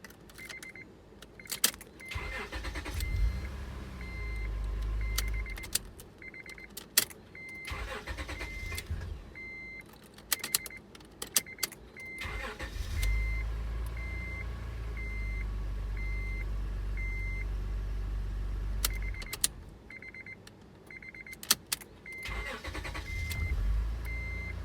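A 2004 Acura TL is started twice after an ignition switch replacement, keys jangling, the engine cranking and catching into a low idle each time, with repeating chime beeps between starts.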